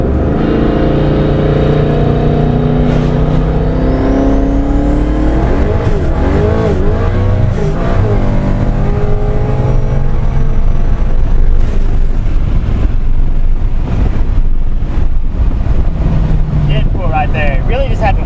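A 2015 twin-turbo Mustang GT accelerates hard from a 40 mph roll on a straight road. The engine roar climbs steadily in pitch, with a high turbo whine rising and holding above it, loud and close.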